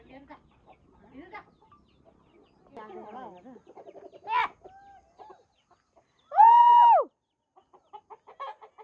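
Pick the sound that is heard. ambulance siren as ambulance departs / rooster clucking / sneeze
rooster clucking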